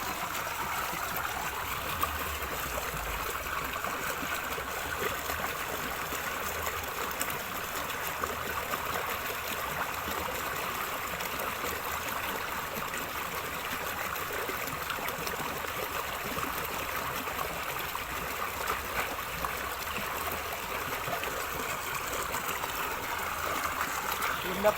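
Small river stream flowing steadily at a fishing spot, a continuous broad wash of water running throughout without pause at moderate loudness.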